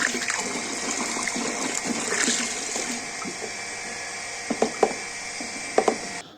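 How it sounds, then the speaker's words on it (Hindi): Village household tap water running into drinking-water pots and vessels: a steady, close rushing stream fills the first half, then softens as a few hollow knocks and clunks of the containers sound near the end. "इतने देर में चल गए हैं नल, तो भर लेते हैं फटाफट से पानी को"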